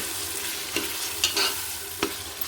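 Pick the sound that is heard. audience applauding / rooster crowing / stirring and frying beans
stirring and frying beans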